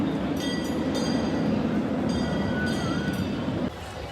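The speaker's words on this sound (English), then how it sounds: "I got here right as the train was entering the tracks" Amusement park train at Cedar Point rolls onto its tracks nearby, a steady loud rumble with wheel squeals and clanking, fading slightly near the end.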